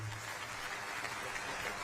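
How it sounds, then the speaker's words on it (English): Audience applause at a sports hall of fame celebration, a dense, distant-sounding wash of clapping from a large crowd, even and sustained without distinct individual claps. "Big round of applause there for that."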